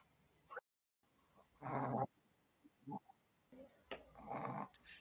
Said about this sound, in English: have you got a snoring dog?